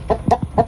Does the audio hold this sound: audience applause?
no